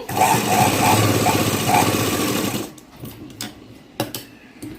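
A sewing machine stitches a blouse at the shoulder near the tucks, whirring steadily and loudly for under three seconds. It then stops, leaving soft clicks and fabric handling.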